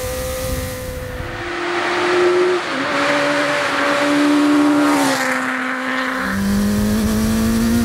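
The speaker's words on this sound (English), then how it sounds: "Little crackles from the exhaust" A custom trike powered by a Kawasaki Ninja 900R engine, running hard with a steady high-revving tone that dips and climbs through gear changes, plus faint exhaust crackles underneath, loud and close.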